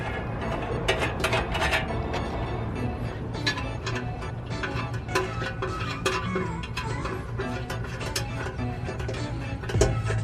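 Bolts go back onto the coolant tank of a 2002 Mustang GT, giving scattered metallic clicks and clinks of a ratchet and hardware, fairly close, over a steady background hum.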